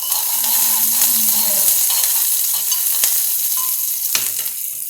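Onions sizzle steadily in a hot pan, a dense continuous frying hiss with occasional stirring scrapes and a brief clink, close and fairly loud with no talk.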